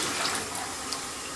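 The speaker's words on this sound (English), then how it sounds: "And full flush." Rushing water pours steadily from a household toilet on its full flush setting, a dense broad hiss that stays loud and close from start to finish with no talking.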